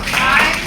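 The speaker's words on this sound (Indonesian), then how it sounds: "kita bagus tepuk tangan" Students in a classroom clap briefly together, a short, close burst of hand claps that cuts off quickly.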